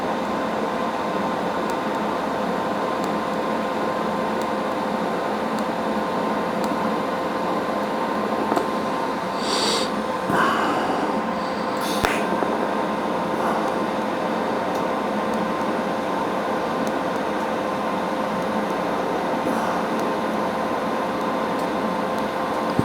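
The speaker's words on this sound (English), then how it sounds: "Making sure not to weld my clamp to the piece" Arc welding on a metal sculpture, with a steady, even crackling hiss that runs the whole time and a few brief sharper bursts midway.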